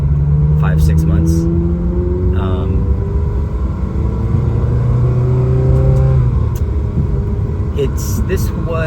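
Ferrari 360 Modena engine droning and rising in pitch while driving, a steady loud in-cabin hum with shifting harmonic tones throughout, with a voice talking over it at points.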